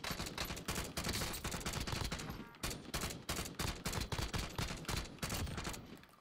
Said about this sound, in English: Dude, this shotgun, though, is actually good.